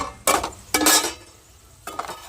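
A spoon scrapes and clanks against a pan while stirring a chickpea and tripe fry, in three short, loud bursts of metallic scraping with quiet gaps between them.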